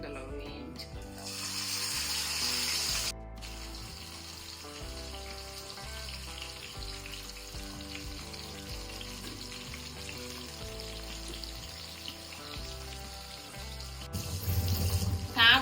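Spice-marinated fish frying in hot oil, a steady crackling sizzle heard up close, with a louder burst near the start and again at the end.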